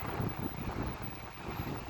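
Steady winter wind in Canada buffeting the microphone, a low rushing roar with gusty swells, no voices.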